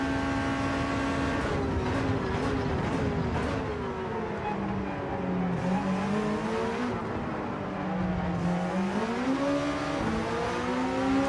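Race car engines in Gran Turismo 7, a Beetle and a Porsche, drone and rev steadily throughout, their pitch rising and falling as the cars shift gears and accelerate, loud and continuous with no talking.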